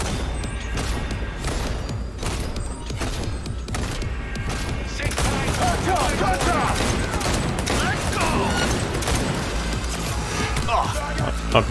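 Rapid gunfire from shooting an enemy in Cyberpunk 2077, a dense continuous volley of shots with crashes mixed into steady game sound, growing busier in the second half.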